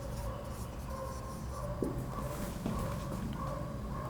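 Pen or marker strokes scratch steadily across a board during a maths lesson, a continuous close writing sound with a couple of small taps, and no speech over it.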